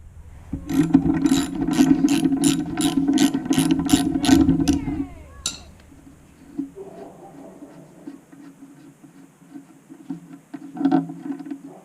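A socket ratchet, fitted with a loose 13 mm or 1/2 inch socket, clicks rapidly in a close, steady burst on snowmobile steering bolts, then stops, leaving quieter handling noises of the repair.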